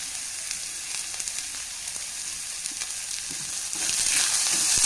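Sliced onions and curry leaves sautéing in oil, a close, steady crackling sizzle with occasional stirring scrapes, growing louder toward the end; no voices.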